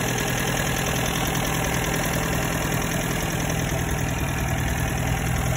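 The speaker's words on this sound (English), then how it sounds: "Here's the engine. Numbers matching motor. Runs like a little clock." A restored 1951 MG TD with its numbers-matching engine idles steadily and evenly, a continuous close mechanical rumble with no talking.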